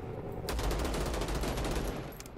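Rapid automatic gunfire rattles in the first-person shooter game Vladik Brutal, a dense burst of shots lasting about two seconds, fairly close and alone with no talking.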